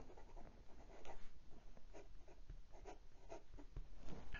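Vintage Sheaffer fountain pen with a short, stiff steel nib scratching across paper, soft close scritching strokes in a steady rhythm, faint and alone for a few seconds.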